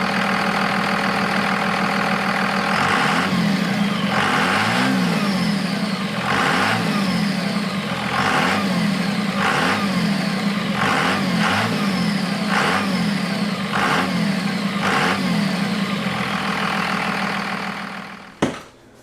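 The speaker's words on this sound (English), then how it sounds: "I'm gonna do some revs by up front in the engine bay." A Dodge Ram 2500 engine, heard up close in the engine bay, is revved repeatedly in short bursts over a steady idle, each rise bringing a swelling turbo whistle, loud and rhythmic before fading out with a final knock.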